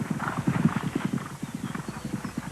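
Rapid, rhythmic clip-clop of a racehorse's hooves pounding along a track, steady and close, with crowd or broadcast noise underneath.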